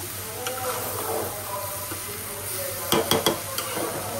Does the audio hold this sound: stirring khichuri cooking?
yes